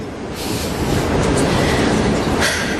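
Steady loud rumble and rattle of a moving train heard from inside a carriage, a continuous dense roar of wheels on track filling the whole stretch with no talk over it.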